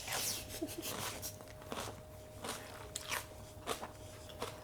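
Someone bites and chews crunchy cooked sprouts with chili sauce, giving a series of close, faint crisp crunches spaced irregularly over a few seconds.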